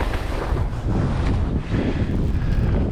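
Strong wind sweeps across steep, hard-snow mountain slopes on the glacier approach to the Bow Hut, a steady, loud, close roar with slight surges and no voices.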